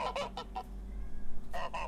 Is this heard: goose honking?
yes